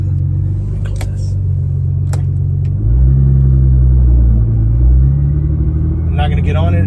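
A Nissan GT-R R35 engine rumbles loudly at idle while cold, with a deep steady throb, swelling briefly as it revs, with a voice speaking over it near the end.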